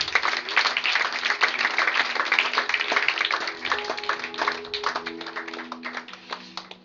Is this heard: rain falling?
no